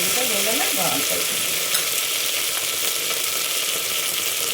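Two sprigs of curry leaves fry in hot oil for a sambar, giving a loud, steady sizzle that runs continuously with the faint scrape of a stirring spoon near the start.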